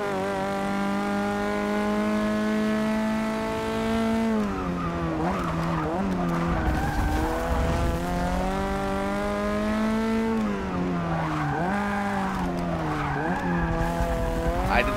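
Race car tires skid and squeal in Forza Motorsport 6, a loud, continuous screech over a high, sustained engine whine that dips and rises through repeated corners and gear changes.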